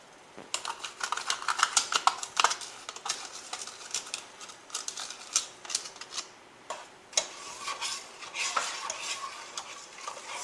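A spoon stirs sugar into a rice pudding mixture, making a quick run of clicking, scraping strokes against the bowl. Bursts of strokes come close together, then pause and resume, with no talking.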